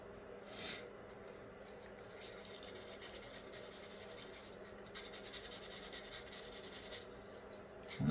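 Sanding putty on a Revell 1/48 scale P-40B Tiger Shark plastic model kit, faint close rasping strokes in repeated bursts with short pauses between them.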